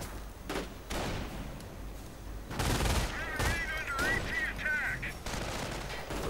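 Machine gun fire crackles in bursts through a World War II strategy video game battle, with repeated rapid volleys and thuds over a busy low background.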